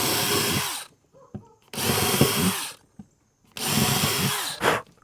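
A power drill pre-drills holes in wood, giving three close, loud whirring bursts separated by short pauses, with faint knocks between them.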